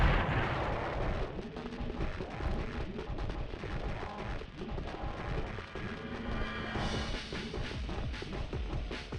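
Bombs explode in the video game Future Cop LAPD as a dense, continuous run of booming blasts and rumbling impacts, loud and close, with no speech.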